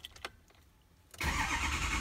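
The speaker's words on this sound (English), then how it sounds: "so we'll go ahead and start the engine." A 6.0 Powerstroke diesel engine with a straight-pipe exhaust cranks briefly and fires up, jumping into a loud, steady idle after a second of quiet clicks.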